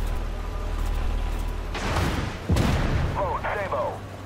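Tank cannon fire in the modern-tank video game Armored Warfare, with a sharp boom and a second, harder blast a moment later over a constant engine rumble, followed by brief warbling game tones.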